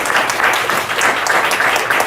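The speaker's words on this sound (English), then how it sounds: "Round of applause, yes." Steady applause from an indoor audience at a LinkedIn Local networking meetup in Toronto, a dense, continuous patter of many hands clapping at moderate loudness with no talk over it.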